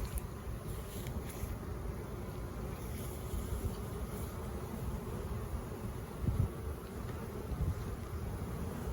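Honeybees humming around an open hive in a community garden during an inspection, a steady, dense outdoor buzz with slight wind and a few closer passes, no talking.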